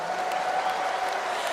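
Dense, steady applause from a large crowd at a PDI Perjuangan party rally, a continuous wash of clapping, loud and without breaks.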